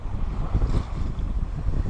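Wind rushing over a sailboat off the Sardinian coast, a steady loud buffeting roar with low gusty rumble and faint water wash beneath.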